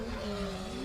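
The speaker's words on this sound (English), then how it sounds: "And he's broken a gearbox from the sound of it. Oh, that was a lot of clutch slip." A drift car driven by Kane Scott in Tyson's car at a South Australian drift series round gives a brief, steady strained engine whine as the gearbox breaks and the clutch slips.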